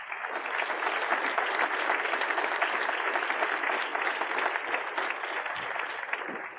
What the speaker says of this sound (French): Le petit cliché avec notre photographe et bien sûr les applaudissements du public.